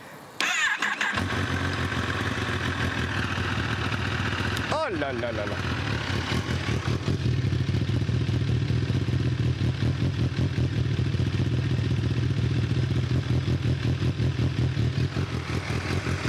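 A Kawasaki Ninja ZX-10R sport motorcycle engine fires up close by, revs sharply once, then settles into a loud, steady throbbing idle; a person exclaims briefly over it.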